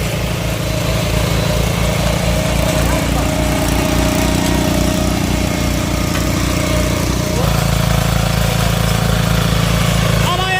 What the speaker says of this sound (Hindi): डीजल इंजन का कमाल